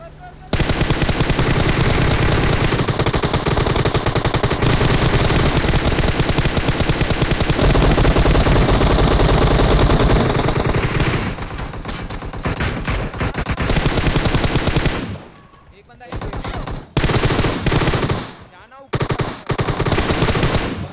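Sustained loud automatic gunfire in PUBG Mobile, dense rapid bursts running nearly continuously before breaking into choppy, stuttering fragments toward the end, with a voice faintly underneath.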